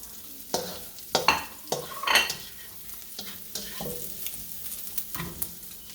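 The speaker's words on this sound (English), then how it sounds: "I'm going to move this and take this out of the pan and put it on a plate for later use." A utensil scoops turmeric fried rice with ham out of a pan on a gas stove: scraping and stirring strokes over a soft sizzle, with several sharper metallic scrapes close by.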